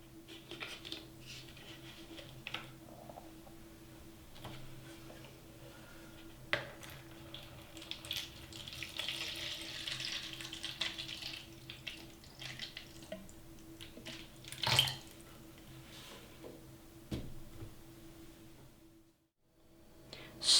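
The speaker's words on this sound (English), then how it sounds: "I will add water to the container that I'll be using as the outer pot in our pot system." Water trickles and splashes as it is poured into the outer container of a self-watering pot for an indoor herb garden, a quiet steady flow with small bursts before it cuts off near the end.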